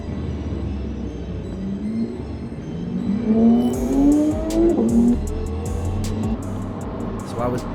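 A BMW M4 race car revs and accelerates on track at Oulton Park, its engine note rising through gears at a middling distance, with clicks and a voice talking over part of it.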